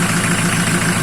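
A homemade tractor with a straight-through welded muffler idles loudly and close by, its steady low-pitched throb pulsing evenly and alone for about a second.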